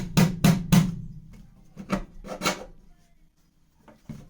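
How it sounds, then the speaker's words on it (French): An 80 mm heater duct pipe is pushed through a drilled hole in a Renault Trafic van, giving a few sharp knocks and scraping rubs in quick clusters, close and fairly quiet. "je vais passer mon tuyau de 80"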